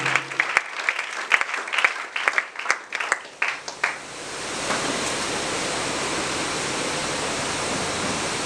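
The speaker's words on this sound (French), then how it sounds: "Acclamons très fort pour le Seigneur." Loud applause from a church congregation fills the first four seconds in dense, overlapping claps, then fades into a steady roar of sustained clapping and cheering that carries on to the end.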